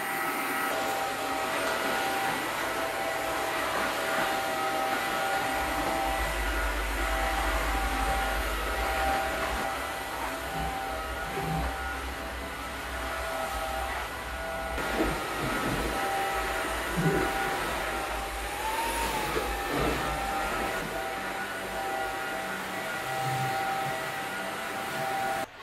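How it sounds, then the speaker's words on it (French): A Cecotec cordless vacuum mop cleaning a kitchen floor gives a continuous steady motor whine with a low hum, close and unbroken throughout, with no talking. "Je vais donc aspirer et nettoyer toute ma cuisine, mon salon et ma salle à manger."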